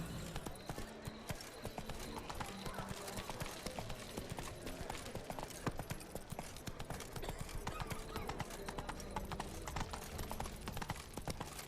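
A horse gallops in The Witcher 3, hooves clip-clopping in a fast, steady, continuous rhythm at close range for the full stretch.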